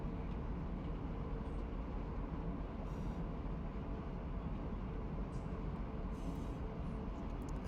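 BNSF freight train in the Run8 train simulator on the Seligman and Needles route, a steady low rumble of a passing train held constant and fairly faint, with no talk.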